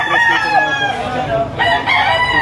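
Several roosters crow in close succession, loud and near, over a background of clucking fowl at a poultry auction in Lipa.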